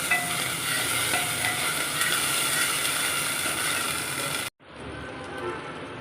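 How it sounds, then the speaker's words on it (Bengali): Marinated meat coated in garlic and ginger paste sizzles and scrapes as it is stirred in a pot, a steady close frying hiss that cuts off abruptly near the end. "এবার যে মাংসগুলো দিচ্ছি আমি, মেখে রাখা মাংসগুলো একটু নাড়াচাড়া করতেছি।"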